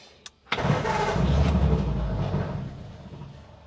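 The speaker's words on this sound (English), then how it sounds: "Actually, it did fire right up. There must have been a bit of gas in the cylinders." A 1947 Ford engine fitted with a Holley 94 carburetor gives a brief click, fires up almost at once and settles into a loud, close, steady run that slowly eases off.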